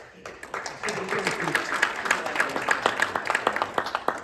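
A church congregation applauding at a Baptist Sunday service, scattered claps quickly building into rapid, fairly close clapping that carries on to the end, with a voice speaking over the start.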